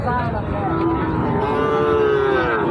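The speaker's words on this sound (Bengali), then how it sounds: "পাশে খুবই ভালো একটা ষাঁড় বাচ্চা দেখলাম আমরা" A Sahiwal bull calf at a cattle market in Joypurhat gives one long continuous moo, loud and near, with a falling harmonic tone, against steady crowd murmur.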